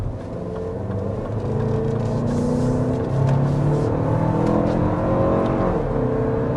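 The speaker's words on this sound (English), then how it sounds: "we are speeding up to 55 miles per hour so we can get our sound level reading" A 2026 Lexus TX 350 speeds up to highway pace, its engine note rising steadily with a smooth, continuous hum and road whir heard from inside the cabin, fairly loud and without talk.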